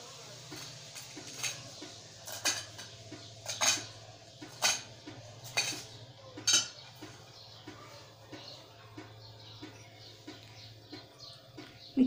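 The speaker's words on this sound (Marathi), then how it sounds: "त्यानंतर पुदिना चिरून घ्यायचा आहे आपल्याला." Knife chopping fresh mint leaves on a board, a series of sharp irregular taps with soft clinks between them, close and fairly quiet.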